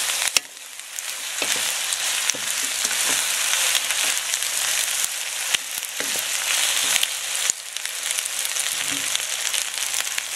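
Chicken macaroni soup ingredients saute in a hot pan, a steady close sizzle and crackle running throughout, with occasional soft knocks and stirring scrapes over the frying.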